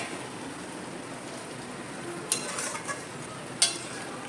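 Hilsa fish pieces fry in a pan with a soft, steady sizzle, broken by a couple of brief sharper crackles or stirring touches near the end.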